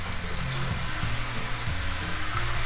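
Beef browning in a stew pot with spices, a steady, close sizzle and crackle of meat searing in hot fat, continuous throughout with faint stirring.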